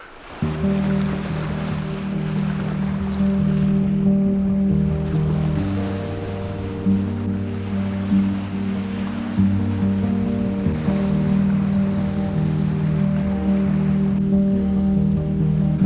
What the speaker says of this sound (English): So I was just down looking at the waves and, you know, just enjoying life.